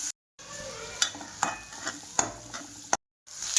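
Tomatoes and spices sauté in a pan, a soft steady sizzle broken by repeated sharp scraping clinks of a spoon stirring, close and fairly quiet, with brief silent gaps.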